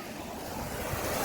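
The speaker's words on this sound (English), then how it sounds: "The water's flowing pretty fast" Fast-flowing water from an overflowing Scottish loch rushes down a stream outdoors, a steady broadband wash with a little wind noise and no talking.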